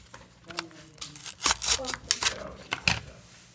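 School supplies such as pens and a fountain pen with ink cartridges are unpacked, with sharp tearing and crinkling bursts of plastic packaging coming close and irregular, mixed with a girl's speech.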